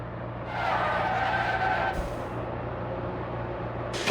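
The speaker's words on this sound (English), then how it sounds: "we have a yellow flag for Ocon, who has crashed into the last corner" A Formula 1 race car in the F1 Manager 2024 video game skids into a wall at the last corner: a loud, steady engine and tire roar that shifts abruptly midway, then continues at a slightly lower level with no talking.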